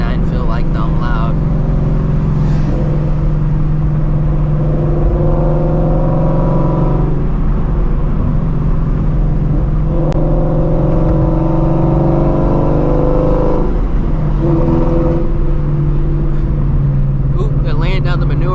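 A Shelby GT350 engine drones loudly and steadily from inside the car while driving, rising in a few revving swells, with people talking over it.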